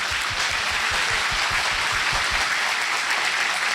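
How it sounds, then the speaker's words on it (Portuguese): Congregation at a Portuguese-language church service applauding loudly and steadily, a dense wash of clapping with rhythmic low thumps throughout, no voices over it. "Aplauda bem forte ao Senhor."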